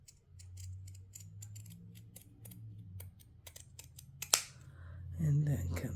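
Scissors cutting a paper fringe, a run of crisp close snips in quick irregular succession with one sharper clack, while a person talks quietly underneath.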